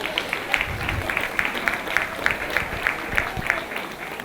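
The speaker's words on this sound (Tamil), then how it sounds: "எங்கே உங்கள் கரகோஷம்?" Audience applause for two dancers after a difficult Thillana performance at a Tamil cultural stage event, a steady wash of clapping with a few sharper claps poking through at a moderate distance.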